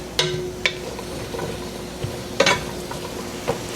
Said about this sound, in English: So we're gonna let these cook, let the carrots soften, let the onions get translucent.